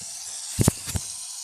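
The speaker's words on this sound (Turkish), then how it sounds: "ben gideyim şu bulaşıkları yıkayayım" Water runs while dishes are washed in the mobile game My Play Home Plus, heard as a few short, close hissing spurts over a quiet background.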